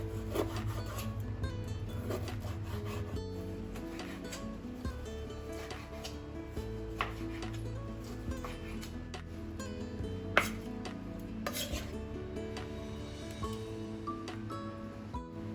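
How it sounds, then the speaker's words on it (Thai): Garlic pounded in a mortar for stir-fried liang leaves, a steady run of dull wooden thuds and grinding rubs close by, going on throughout. "ตำกระเทียมนะคะ สำหรับผัดใบเหลียงค่ะ"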